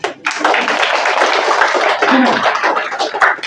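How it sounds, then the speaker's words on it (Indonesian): Audience clapping during an Islamic sermon at a pesantren, a dense burst of many hands filling the space loudly and steadily for a few seconds, with a faint voice underneath. "Perlu tepuk tangan ini."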